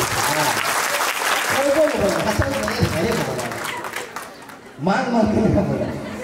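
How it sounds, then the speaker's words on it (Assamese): An audience claps loudly through a motivational talk at L.B Academy in Abhayapuri. The dense applause runs for about four seconds, dips briefly, then surges again, with voices and a little laughter mixed in. "হাত চাপৰি বজাই দিয়া যদি ভাল"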